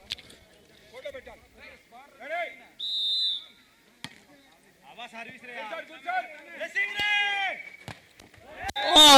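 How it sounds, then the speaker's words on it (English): During the NTPC versus BBMB match an umpire's whistle gives one short, shrill blast, heard amid lively commentary and crowd noise. "Whistle call from umpires."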